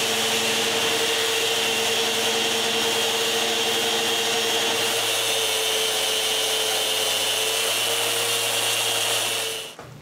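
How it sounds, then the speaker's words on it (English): Clamped wooden bathroom vanity frames are sanded with a power sander, a loud, steady whirring drone running nearly ten seconds before cutting off abruptly at the end. "So I clamp them together and sand the difference."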